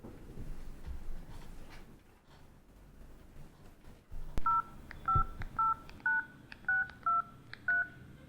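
A telephone being dialed: eight clear touch-tone beeps in a quick, uneven sequence, heard after a quiet stretch of soft room noise and a faint voice.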